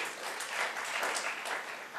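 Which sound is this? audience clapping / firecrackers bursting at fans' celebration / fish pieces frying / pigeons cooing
audience clapping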